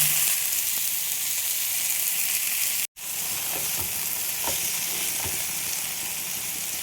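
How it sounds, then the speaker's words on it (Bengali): A dense, even sizzle of onions frying in oil, continuous and close, with a few soft knocks partway through and no voices. "পেঁয়াজগুলো ভেজে নিচ্ছি।"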